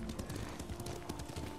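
Horse hooves clopping in a steady, rapid rhythm during riding in the video game Ghost of Tsushima, a continuous moderate beat with a low hum beneath.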